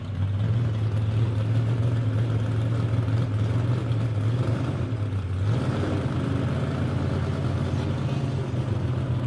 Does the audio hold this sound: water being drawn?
no